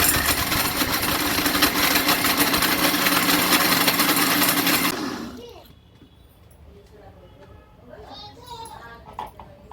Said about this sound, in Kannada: ಈ ಕೊಬ್ಬರಿ ಸಣ್ಣಗೆ ಮಿಕ್ಸರ್ ಹಾಕೊಂತೀನಿ